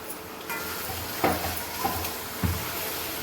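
Chopped onions and tomatoes sizzle steadily in a hot pan as they fry, with a few sharp scrapes and knocks of a spoon stirring them close up.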